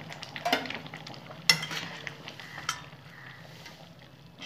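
Prawn masala with cashew paste being stirred in a pan: soft sizzling with intermittent scrapes and clinks of a spoon against the metal, close and fairly quiet.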